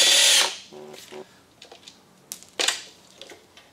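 Power tool driving a 10 mm socket while disconnecting the battery of a Chevy Volt: one loud half-second whir, then a few short, softer buzzes and clicks spread across the rest of the clip, near and alone.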